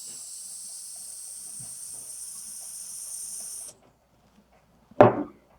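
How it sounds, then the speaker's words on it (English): Butane gas hisses steadily as a refillable long jet pen torch lighter is filled upside down over the canister nozzle, then stops, followed by a short sharp click or burst. "This is where you're going to add in your butane."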